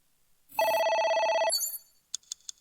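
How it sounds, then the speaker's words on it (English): A phone in the video game AI: The Somnium Files gives one clean electronic ring for about a second, loud and alone, followed by a few short, sharp clicks. "A phone."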